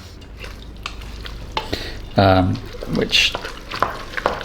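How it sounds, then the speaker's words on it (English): Christmas pudding mixture stirred in a bowl, wet squelching scrapes with a spoon in irregular strokes, close up, with a brief spoken word in the middle. "I'm going to give it a lot of stirring."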